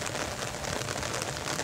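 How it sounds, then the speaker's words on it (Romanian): Heavy rain drums steadily and densely on an umbrella beside the Argeș river during a fishing outing, close and loud, with no pauses. "Pe ploaia asta abundentă."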